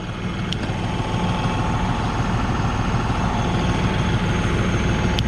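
A new New Holland T3.70B Common Rail tractor engine runs at a steady, low, even rumble, close and continuous, with a couple of faint clicks.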